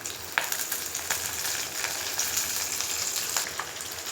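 Green chillies, dried red chillies and curry leaves frying in oil for a mango pickle: a steady, close crackling sizzle with occasional sharper pops and stirring sounds, no talking.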